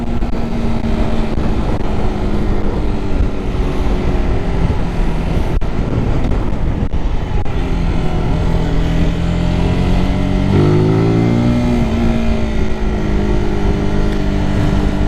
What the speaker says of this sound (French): Concernant le pot d'échappement, on sent qu'ils ont essayé avec la norme Euro 5 d'étouffer au maximum le son